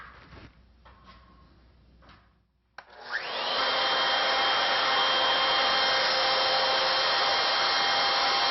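A router plunges a quarter inch into the wood of a candle stick, starting after a few quiet shuffles and clicks, then roaring up to a loud, steady high-pitched whine that holds without a break.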